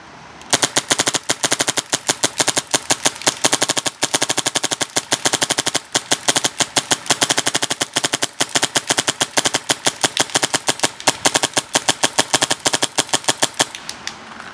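Tippmann Crossover XVR electronic paintball marker firing in rapid RT mode, a loud, dense, fast string of sharp pops lasting over a dozen seconds, close to the listener with almost no gaps.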